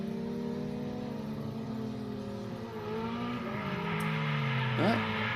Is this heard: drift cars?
yes